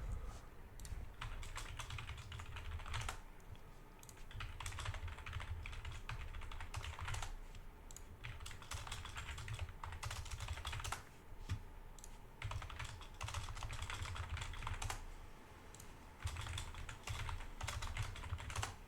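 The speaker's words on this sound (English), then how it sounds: "I'm typing it on Google and you can't see it" Rapid clattering keystrokes on a computer keyboard come in bursts separated by brief pauses, close and fairly quiet, with no talking.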